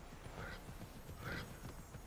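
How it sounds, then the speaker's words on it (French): Horse hooves clip-clop steadily in the video game Immortals Fenyx Rising, a continuous trotting rhythm with a faint whinny-like cry mixed into the game soundscape. "on va prendre le cheval un peu plus souvent"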